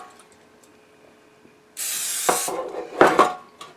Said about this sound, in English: we're going to take a loaf pan and spray it with some cooking spray.